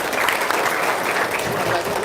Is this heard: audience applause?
yes